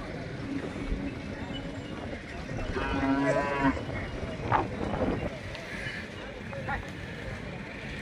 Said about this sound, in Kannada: ಫ್ರೆಂಡ್ಸ್ ಇಲ್ಲೊಂದು 2 ಜೋಡಿ ಎತ್ತುಗಳದ ನೋಡ್ರಿ